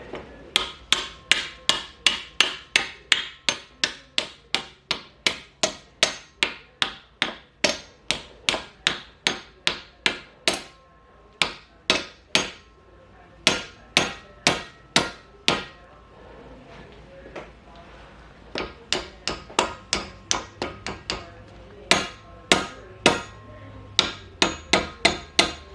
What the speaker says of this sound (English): And then tighten your vise, and then we're going to pound the metal back this way.